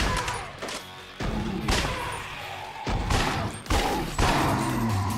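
Gunfire in the FPS game Judgment, played on a controller, a series of sharp, loud shots in uneven bursts with short pauses between volleys, close and punchy, with no talking.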